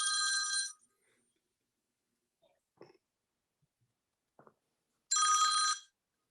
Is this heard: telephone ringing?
yes